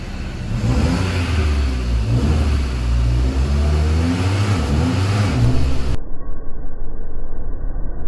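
A Ford EcoSport engine revs steadily and loudly during a clutch slip test, a sustained droning roar that rises and falls slightly and continues without a break, heard up close.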